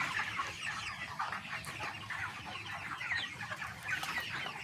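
A dense flock of about a thousand farm chickens clucks and chatters continuously, a steady busy din with no voices.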